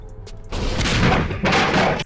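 Heavy booming blasts from an automatic grenade launcher turret in the game Portal, a low thud followed by a dense, sustained roar of explosions that swells again near the end, loud and close with no talk.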